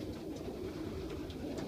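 Young pigeons in a loft coo softly in a low, continuous murmur, several birds overlapping close by, with faint higher chirps above.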